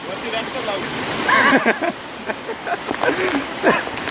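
Heavy rush of a waterfall running in monsoon rain at Rangnagad Fort, a steady close wash of water under bursts of excited talk and laughter from trekkers.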